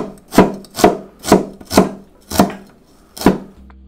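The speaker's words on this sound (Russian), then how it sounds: "Нарезаем пластинками. А затем мелко в поперек." A knife finely chopping carrot crosswise on a board, seven crisp, evenly spaced strikes close by with no talking.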